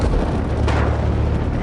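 Heavy gunfire booms in the distance, a sharp blast standing out over a dense, rumbling roar of continuous firing.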